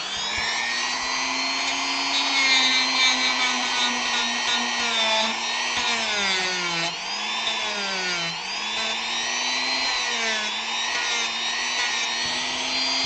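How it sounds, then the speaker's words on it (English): Loud, continuous whine of a Dremel rotary tool smoothing wood for a model base, its pitch wavering up and down as the load shifts, running steadily throughout with no voices. "You know how loud the Dremel is"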